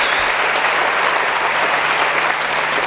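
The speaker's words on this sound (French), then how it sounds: "Merci d'applaudir M." A full audience applauds a guest, Mr. Momar Nguer, at a morning civic event, the grande rentrée citoyenne. The clapping is dense, steady and loud, and it carries on without a break.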